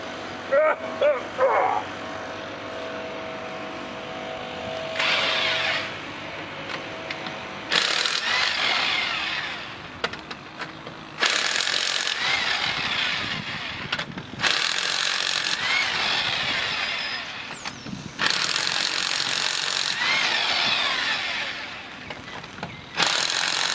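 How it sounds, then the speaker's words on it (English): An impact wrench takes a wheel off a 2004 Dodge Stratus with a 3/4 inch impact socket, firing in several loud, buzzing bursts of a few seconds each, separated by pauses with some handling noise and talk. "So, I've already got my 3/4 inch socket, impact socket sitting here, so let's get this wheel off."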